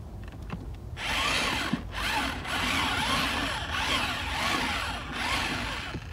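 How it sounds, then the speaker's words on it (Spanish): Power drill with a mixing paddle churning a batch of tirol plaster mix, a sustained whirring grind with gritty scraping that swells and dips rhythmically as the paddle is worked through the bucket, close and loud. "Aquí con el taladro lo batimos"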